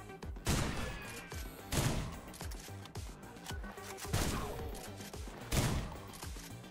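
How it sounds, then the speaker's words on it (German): Gunfire from clay pigeon shooting in SlavicPunk: Oldtimer, several sharp, loud shots spaced a second or so apart, each with a short ringing tail over a rumbling game background. "Tontauben schießen"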